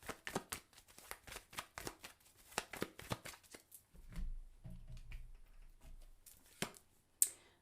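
A tarot deck being shuffled by hand, with a rapid run of close crisp card riffles and flicks, then a softer rustling pause before a few last taps and snaps, no talking.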